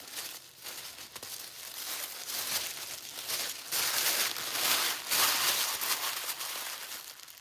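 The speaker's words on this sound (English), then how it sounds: "I gotta wrap this up with tissue paper." Tissue paper crinkles and rustles as a gift box is wrapped, close and continuous with uneven bursts of crumpling, no voices.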